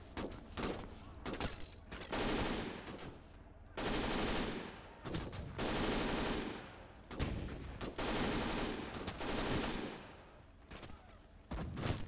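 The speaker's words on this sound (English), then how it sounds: "MG still active" Machine gun fire in the Gates of Hell World War II strategy game: repeated long, loud bursts of rapid automatic shots with short gaps between them, close and harsh throughout.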